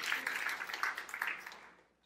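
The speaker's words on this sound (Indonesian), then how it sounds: "Tepuk tangan yang meriah untuk kemuliaan Tuhan" A church congregation applauds after the preacher's call, a steady patter of clapping that fades out over a couple of seconds, fairly quiet and mixed with voices.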